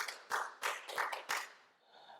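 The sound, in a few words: church congregation applause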